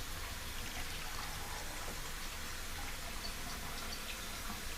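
Freshly brewed tea, just taken off the stove, is poured out in a faint, steady splashing trickle of liquid that runs continuously without pause.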